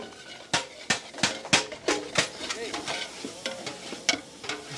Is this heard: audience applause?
no